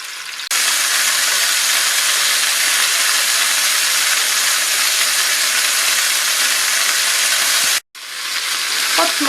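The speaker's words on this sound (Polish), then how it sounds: "Będę je teraz obsmażać na rumiany kolor ze wszystkich stron." Loud, steady sizzling of pork rolls frying in a hot pan, a continuous hiss that briefly cuts out near the end before resuming.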